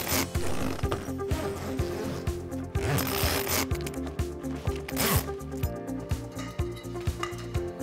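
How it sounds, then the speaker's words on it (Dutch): A ground sheet is zipped onto a Cabanon Mercury folding trailer tent. Close zipper runs rasp again and again, mixed with fabric rustling and handling noise, in a busy, fairly loud stretch of several seconds. "Vouw het grondcel uit en rits deze vast aan de wagentent."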